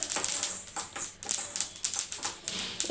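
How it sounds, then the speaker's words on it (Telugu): Small rapid crackles and pops of sesame seeds roasting in a dry pan, ticking irregularly and close up with no talking. "ఇట్లా కొంచెం ఇట్లా చిటపట అంటున్నాయి కదా"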